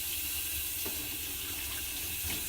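Hot water runs steadily from a faucet in an RV, a continuous close hiss of flowing water with no talking.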